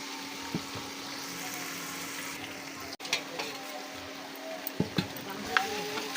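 Fish coated with turmeric and salt, cooked with jackfruit seeds, is turned over in a hot pan, giving a steady close sizzle with scattered scraping clicks of a utensil and a sharp knock partway through.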